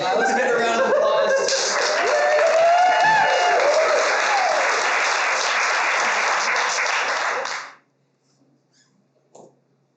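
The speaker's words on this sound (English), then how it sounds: "All right, let's get a round of applause." Live improv comedy audience breaks into loud, steady applause with some cheering, lasting about seven and a half seconds before cutting off sharply into near silence with a faint sound afterward.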